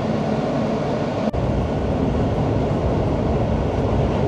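A train rolls along rails in New York City with a continuous loud rumble, interrupted once by a brief sharp drop, no voices present.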